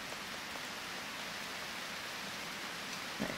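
Heavy rain in the video game Harvest Moon: Grand Bazaar makes a steady, even hiss throughout, with one faint soft knock near the end.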